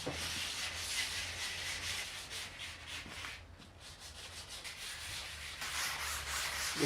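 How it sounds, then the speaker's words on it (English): Steady abrasive rubbing of sandpaper by hand along the sharp edge of a cast concrete countertop, continuous and close with a brief lull midway, no talking. "what I want to do is just a little bit of hand sanding to make it softer"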